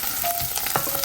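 Chopped onions sautéing in a hot pan for a Filipino home-cooked dish with pechay, giving a steady close sizzle with brief stirring scrapes over about a second, no talking.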